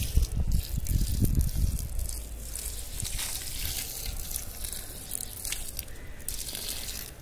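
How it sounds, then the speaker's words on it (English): Water being poured over newly planted spinach and bean seeds in soil topped with cow dung manure in a terrace garden, giving soft close splashing and trickling that fades to a gentle patter. "And the last stage of spreading some water."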